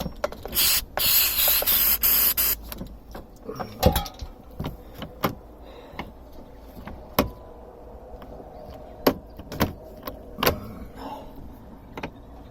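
A long hissing burst from an aerosol can sprayed on a narrowboat on a canal, followed by scattered clicks and knocks of handling, with a quieter hiss in between.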